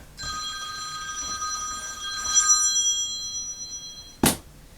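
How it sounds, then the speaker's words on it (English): A phone ringtone from an incoming call sounds in an art studio during acrylic painting, a steady electronic melody of sustained tones lasting several seconds, moderately loud, followed by a short sharp knock or clack near the end. "Oh, I got a phone call"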